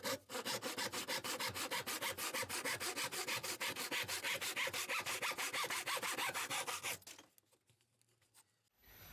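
A hand saw cuts through a wooden board for a shop stool with fast, even back-and-forth rasping strokes, close and loud for about seven seconds, then it stops and only faint shop noise remains.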